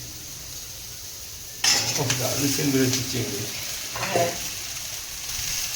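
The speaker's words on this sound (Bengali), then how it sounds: "ঢেঁড়সটা ভালো করে ভেজে নিচ্ছি।" Okra and potato fry in a pan with steady sizzling under a brief spoken word, with soft stirring scrapes coming in bursts.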